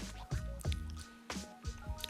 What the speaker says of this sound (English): So that's why I'm adding a little bit more water in it now.